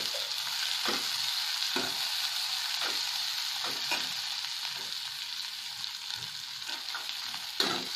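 Cooked peas sizzle and fry in a hot pan with spiced oil as they are stirred and sautéed, a steady crackling hiss with soft scraping strokes of the spoon recurring every second or so.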